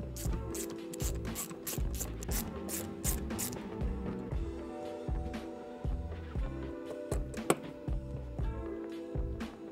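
A screwdriver works T10 Torx screws out of the heater control valve solenoid bracket on a 2000 BMW 740i E38 engine, giving quick ratcheting ticks and small metallic clicks, with one sharp click near the end.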